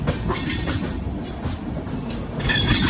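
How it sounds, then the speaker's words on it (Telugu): The Visakhapatnam–Tirumala Express rumbles past close by, wheels clattering rhythmically over the rails with a rising metallic hiss near the end. "విశాఖపట్నం తిరుమల ఎక్స్ప్రెస్"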